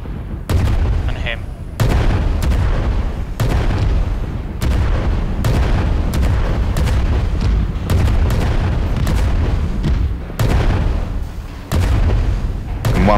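Repeated booming ship cannon blasts in a video game fire in an irregular rapid sequence, loud and close, each a sharp percussive burst with a rumbling low end.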